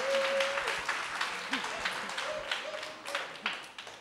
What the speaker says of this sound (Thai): ขอเสียงปรบมือหน่อยค่ะ